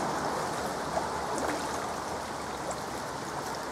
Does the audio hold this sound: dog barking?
no